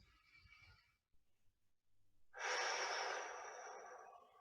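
A person doing a meditation exercise takes one slow, deep breath in, then after a short pause exhales long and audibly through the mouth, a close, airy whoosh that gradually fades.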